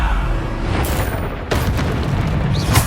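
Bombarda spell blasts in the video game Hogwarts Legacy, with loud booming explosions bursting at about 0.8, 1.5 and 2.8 seconds over constant rumbling battle noise.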